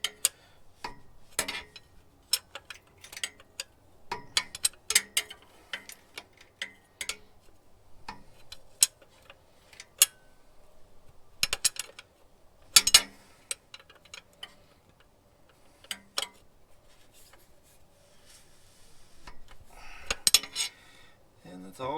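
A wrench clicks and clinks on the shift linkage of an SSR, sharp metallic ticks and small clanks in irregular bursts at close range over a quiet background.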